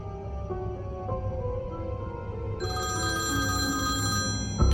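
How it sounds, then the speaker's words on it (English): An old rotary telephone in a hallway rings with a bright, sustained bell tone that comes in partway through, over a low steady background hum. "That night, the phone in the hall rang once."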